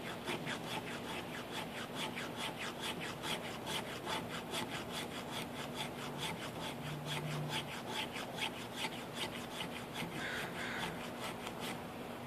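The spine of a knife scrapes a ferro rod in a long, steady run of quick rhythmic rasping strokes, even and continuous with a low hum beneath.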